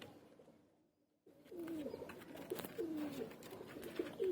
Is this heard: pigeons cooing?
yes